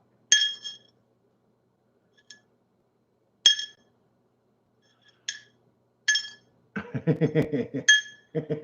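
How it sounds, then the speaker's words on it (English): Small objects dropped into a metal pan in a garage, where gold is being melted, give sharp, ringing metallic clinks spaced apart, some loud and some faint, with a voice briefly near the end. "Dropping it in a metal pan is loud."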